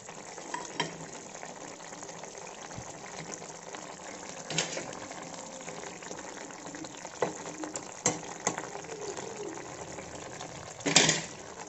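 Tangra fish curry simmering in a pan with a low, steady bubbling and frying hiss, a few faint clinks near the end and no voices.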